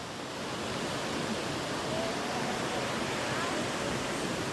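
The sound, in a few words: Tinago Falls waterfall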